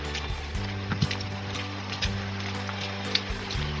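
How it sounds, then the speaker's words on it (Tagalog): A heavy rain shower pours down in gusts over a farm plot in La Union province, a steady broad hiss of falling water with a low mechanical hum running underneath and no talk. "Kasi nandiyan na yung ulan, ang lakas."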